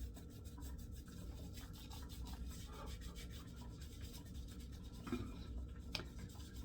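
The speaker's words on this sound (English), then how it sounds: "Now with my hands, kind of washing off the excess soap now. Use the wet hands to rub it in." Wet hands rub glycerin shaving soap into a face, giving a faint, close, continuous slick rubbing with a few soft brief squeaks and no talking.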